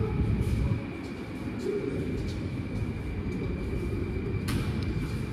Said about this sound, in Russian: Там слышится, как АК въезжает.